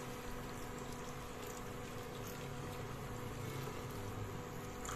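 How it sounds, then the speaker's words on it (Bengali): Lukewarm water is poured into a pan of frying rui fish, producing a steady faint bubbling and sizzling hiss that carries on evenly throughout. "সব জলটাই দিয়ে দিলাম, একটু ফুটবে তো।"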